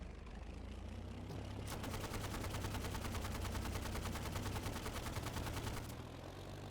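A long burst of rapid machine-gun fire rattles out in the World War II shooter Easy Red 2 as an enemy pilot is gunned down, a fast even stream of shots lasting about four seconds over a steady engine drone.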